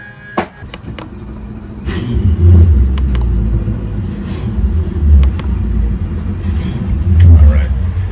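Twin inboard engines on a Chris Craft boat idling at the dock, a low, steady rumble that swells in places, with people talking and scattered knocks and clicks over it.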